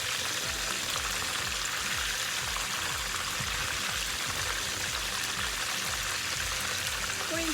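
Chicken wings without flour fry in hot oil in a pan, giving a steady, dense sizzle and crackle that holds evenly throughout with no voices.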